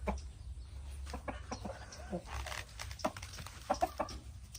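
Large Thai fighting rooster, a heavy breeding cock of about three kilos, giving a few faint scattered clucks and calls at close range, with low background noise and no speech.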